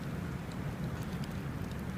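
Steady rain and wind roar without pause in a cold, wet Scottish burn, a dense broadband wash with low rumbling gusts and occasional faint patters.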